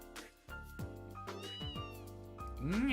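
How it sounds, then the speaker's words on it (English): A cat in the video game Trails in the Sky FC meows several times in a clear, close series of short tonal calls, with game music softly underneath. "Cat."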